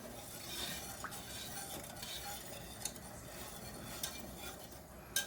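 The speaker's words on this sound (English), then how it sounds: "Give it a little bit of a stir." Pasta sauce with onion being stirred in a cooking pot, a soft continuous scraping and gentle simmering hiss with a few light clinks of a utensil against the pot, quiet and close.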